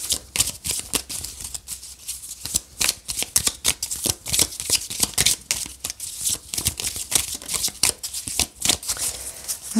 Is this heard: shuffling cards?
yes